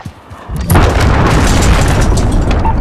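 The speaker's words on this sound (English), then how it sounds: "Allied cruise missile launched." A cruise missile explodes in a Call of Duty match, with a loud deep boom that swells and rumbles on for a couple of seconds, close and with no talk.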